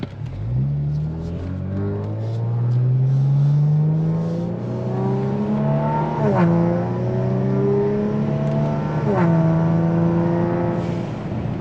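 A Kia Stinger with catless downpipes revs loudly, its engine pitch rising and falling through several pulls, with turbo blow-off valves venting in sharp bursts between revs, close and continuous.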